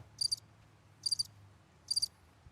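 A cricket chirps in three evenly spaced bursts, each made of a few quick high pulses, against a faint low background hum.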